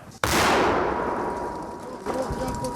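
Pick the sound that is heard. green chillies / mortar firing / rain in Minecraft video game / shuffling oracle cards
mortar firing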